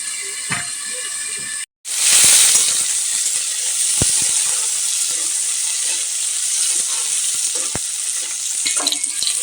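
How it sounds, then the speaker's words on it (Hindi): Potatoes fry in a covered pan with a steady, loud sizzle and hiss throughout, broken by a brief silent gap early on and a few faint clicks and clinks of the lid or utensils. "अच्छे से आलू को तल लेंगे। थोड़ा सा ढक दे रहे हैं।"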